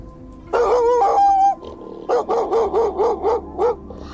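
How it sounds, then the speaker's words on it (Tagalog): Several dogs bark nearby, a long yelping burst followed by a rhythmic run of short, regular barks, with no talking. "may naririnig akong tahol ng mga aso."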